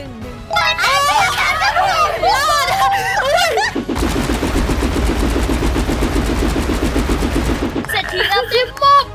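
Rapid gunfire from the video game Pixela Adventure, a sustained burst of regular shots in the middle with synthetic voice-like sounds before and after.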